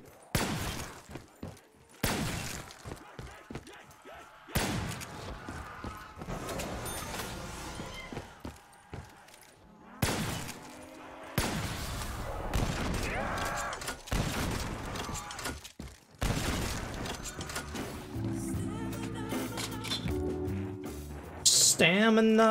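Gunfire rings out in a video game on a new map called Volkov, with bursts of shots and impacts scattered through the clip, and a player talking over the game sounds.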